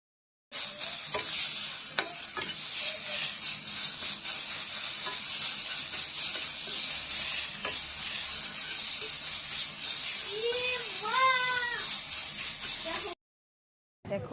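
Yardlong bean paste hits hot mustard oil already crackling with nigella seeds and a dried red chili, giving a loud, steady sizzle with stirring scrapes throughout, then a sudden stop.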